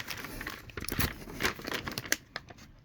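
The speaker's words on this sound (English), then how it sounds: "Dodo mat, sound deadener" Plastic packaging around a pack of Dodo Mat sound deadener sheets for a Cortina crinkles and rustles nearby in quiet, irregular bursts of crackling handling noise, no talking.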